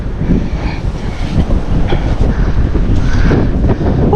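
Strong, steady wind at an outdoor fishing spot buffets the microphone with a low, continuous rumble, gusting slightly louder toward the end, with no voices.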